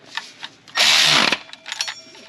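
A power tool runs in one loud half-second burst while tightening bolts on the final drive of a 1939 Caterpillar D4 crawler tractor, with faint clinks of metal before and after.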